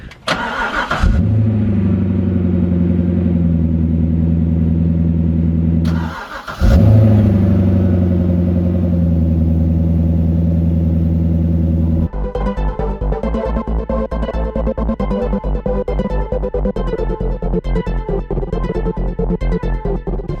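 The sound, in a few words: C6 Corvette Grand Sport LS engine cold start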